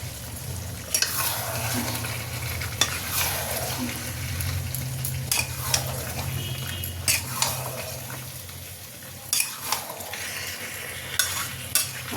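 Chicken curry with yogurt stirred and fried in a pan, a steady low sizzle with repeated utensil scrapes and clinks against the pan, close and moderately quiet.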